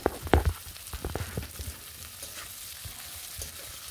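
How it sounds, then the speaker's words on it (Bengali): Boiled potatoes frying with onions in a pan give a steady, moderate sizzle, with a few clattering stir strokes near the start that fade into an even hiss. "এবং কিছুক্ষণ ভেজে নেব একটু।"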